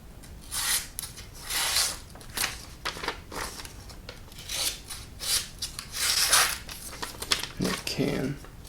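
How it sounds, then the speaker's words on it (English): A Hap40 steel gyuto kitchen knife slicing through paper, repeated close rasping strokes in irregular bursts. "So make sure it can still slice paper."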